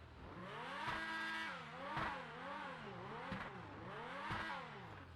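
Supercar engine in the RedlineRP driving game, revving up and down in repeated smooth rising and falling sweeps, steady and fairly loud with no talk.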